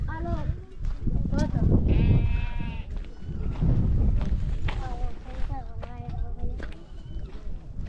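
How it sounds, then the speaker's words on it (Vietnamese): Several goats in a pen at a Hamar clay-house compound bleat repeatedly, with overlapping wavering calls near and far, while people talk in between and over the animals. "Đây là một cái chuồng dê."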